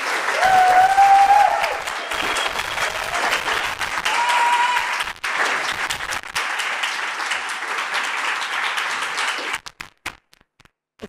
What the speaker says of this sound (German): Das war ein bombastischer Applaus bei meinem Applausmesser